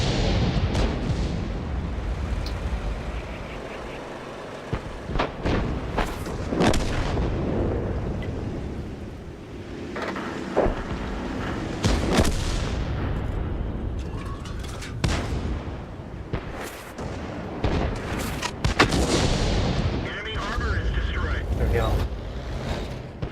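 Tank cannon fire in the video game World of Tanks, several sharp booming shots spaced through a rumbling battle soundscape, with someone talking over it.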